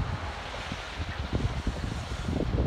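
Gusty wind blowing outdoors on a cold, rainy day beside a road where trucks pass, a steady broadband rush with rumbling buffets against the microphone throughout.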